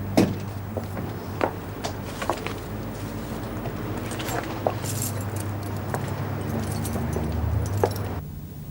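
A bunch of duplicate keys jangles in a prison setting, with scattered light metallic clinks and rattles repeating across the stretch over a steady low hum.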